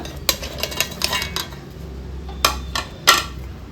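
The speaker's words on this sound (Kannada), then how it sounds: "ಒಂದು ಮಿಕ್ಸಿ ಜಾರ್ ತೊಗೊಂಡು ಹಲಸಿನ ಬೀಜ ಚಟ್ನಿ ಮಾಡ್ಕೊಳ್ಳೋಣ ಸಿಪ್ಪೆ ಸುಲಿದ ಹಲಸಿನ ಬೀಜ ಹಾಕ್ಕೊಳ್ಳೋಣ" Peeled jackfruit seeds go into a steel mixer jar for chutney, making a handful of close, sharp clinks and rattles that come in uneven bursts with quiet pauses between.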